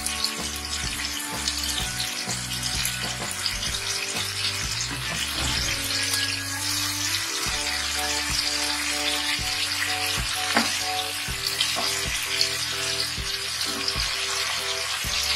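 Pabda fish frying in hot oil with curry leaves in a Bengali kitchen, a dense, continuous sizzle and crackle that stays loud and close throughout, with occasional scraping and stirring.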